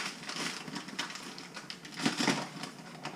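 Ten pounds of sugar poured over organic figs in a pot, a close, gritty rustling cascade with uneven bursts, swelling loudest near the end.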